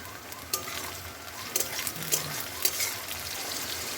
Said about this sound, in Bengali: পেঁয়াজ হালকা লাল হয়ে গেছে, এবার টমেটো কুচি, কাঁচা লঙ্কা কুচি দিয়ে দিলাম